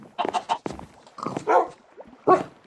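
Dogs in the Minecraft video game barking, a burst of several short, close barks and yips in quick succession, loud and clear with no talk over them.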